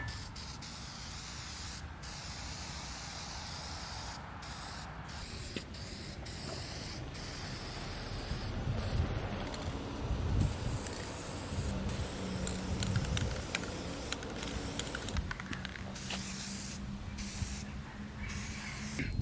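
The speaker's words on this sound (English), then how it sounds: "I got some high temp paint and I'm about to spray it up" High-temperature spray paint hisses from an aerosol can in steady bursts with short pauses, close and loud, while a welded exhaust tip on a Miller generator/welder is coated.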